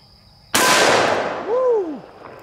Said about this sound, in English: Now let's try out the 44 Magnum. We're loaded up with some Underwood ammo, 240 grain jacketed hollow points.